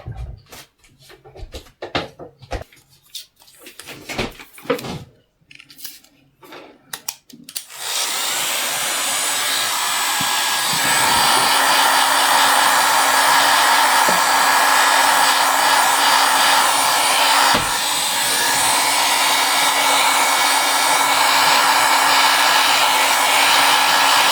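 A heat tool blowing hot air over a resin table cup: after a few seconds of scattered clatter and small sounds, a loud steady blower roar starts and runs unbroken to the end.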